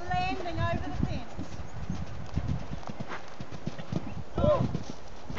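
A horse's hooves clip-clop in a steady rhythm during a riding lesson, fairly close, while an instructor talks over the hoofbeats and the horse briefly whinnies.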